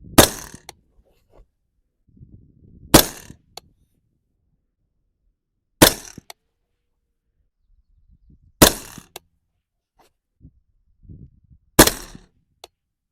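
Five sharp rifle shots from an 11.5-inch-barrel SR-15 fired outdoors at a 200-yard target, each a loud crack with a short decay, spaced roughly three seconds apart with quiet gaps between.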